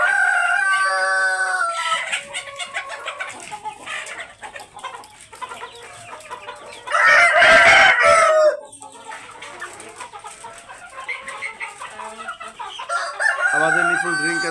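Farm chickens fed on organic feed cluck steadily while a rooster lets out a loud crow midway, with more clucking and calls continuing around it on the poultry farm.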